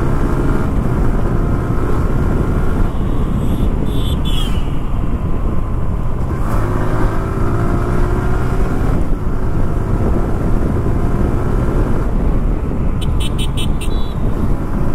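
A 2008-era TVS Apache RTR 160 2V BS3 motorcycle ridden on the road, its steady engine note rising and falling under constant loud wind rush across the microphone, with no talking.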